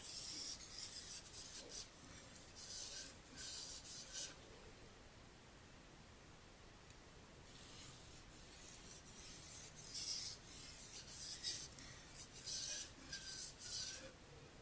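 A knife blade is drawn with light pressure across a fine sharpening stone, giving soft, hissing scrapes in repeated stroke bursts with a short quiet pause in the middle, close and clear.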